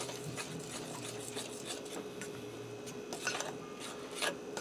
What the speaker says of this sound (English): I'm just going to incorporate that flour in with the liquid and the egg.